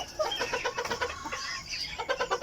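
Polish Frizzle chicken in a backyard coop, clucking in a steady run of short calls that continue throughout, fairly close and without any talk.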